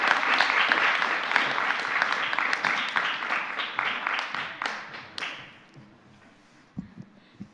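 Church congregation applauding at a Sunday thanksgiving service to welcome a deacon to the stage, dense clapping that holds steady for about five seconds, then thins out into a few scattered claps.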